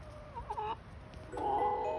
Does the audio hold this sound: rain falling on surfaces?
no